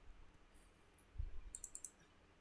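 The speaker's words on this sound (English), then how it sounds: "Double click." Computer mouse clicks in quick succession, four sharp, faint, close ticks in a tight cluster near the end, with a soft thump beforehand over a quiet room.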